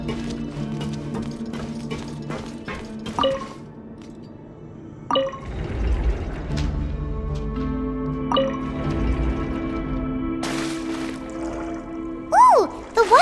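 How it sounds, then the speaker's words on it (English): Water rising after a mechanism is activated in Genshin Impact: a swelling liquid rush and dripping splashes over a sustained humming tone, with scattered chimes and a brief magical flourish near the end. "Ooh! The water level's gone way up!"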